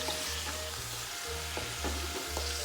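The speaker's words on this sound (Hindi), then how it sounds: "इसको चिकन को अच्छी तरह हम ऑयल में फ्राई कर लेंगे।" Chicken pieces fry in oil for a white karahi, giving a steady close sizzle broken by a few clinks and scrapes of stirring, with no voices.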